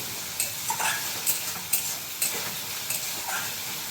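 Spiced masala sizzling and frying in hot oil as strained bottle gourd water goes in, with steady hiss and crackle broken by repeated stirring scrapes and clinks at close range, no voices.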